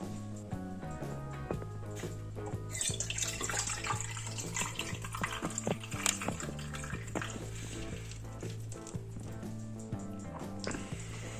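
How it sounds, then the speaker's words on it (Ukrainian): Homemade infusion for a liqueur is poured into half-litre containers, about 320 ml each, making a continuous soft trickling and splashing under background music. "Кожну ємкість заливаємо 320 мл настою."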